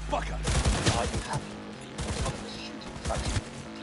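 Rapid bursts of gunfire ring out in the video game Cyberpunk 2077, a quick series of loud, overlapping shots with game effects and some voice underneath.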